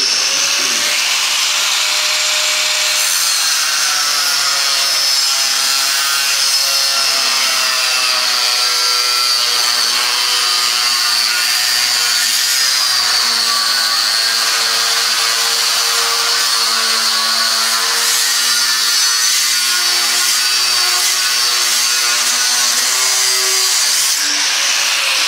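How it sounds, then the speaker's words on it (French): Angle grinder cutting sheet metal in a workshop while building a coffee table from salvaged parts, a loud continuous high-pitched whine with wavering pitch running throughout. "on prend la disqueuse, on la démarre."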